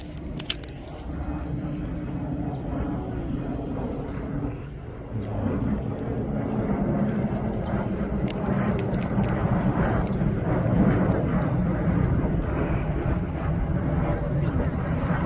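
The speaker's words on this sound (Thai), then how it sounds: "เครื่องบินครับ" An airplane passes overhead above a riverside spot on the Mun River, a steady distant engine drone that slowly builds in loudness, with someone talking over it.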